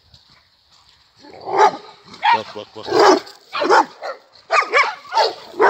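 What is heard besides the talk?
dogs barking at a dog park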